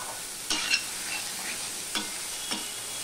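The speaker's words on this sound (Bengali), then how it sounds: "ঝিঙেগুলোকে আমি একটুখানি নেড়ে নেব এই তেলের মধ্যে দিয়ে।" Ridge gourd being stirred in hot oil in a pan. A soft sizzle runs under a few distinct spatula scrapes and clinks, with no talking.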